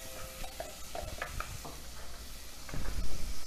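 Seasoning being stirred into a Trinidadian macaroni pie mixture, with soft scraping and stirring strokes repeated in an uneven rhythm, close and fairly quiet, and no voices.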